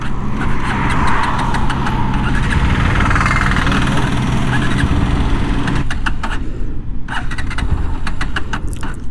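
A Bajaj Pulsar NS125 motorcycle engine running steadily and loudly close by, a dense mechanical hum with rapid rattling ticks, shifting in tone partway through after running low on fuel.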